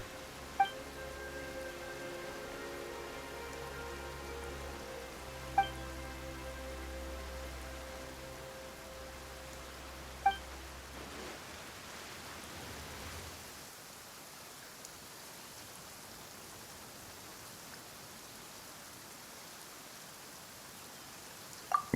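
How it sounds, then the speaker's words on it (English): Steady rain pours in a Genshin Impact game scene, a broad soft hiss that builds after an ambient musical passage fades out, with a few faint chime-like ticks over the top. "Why is it raining all of a sudden?"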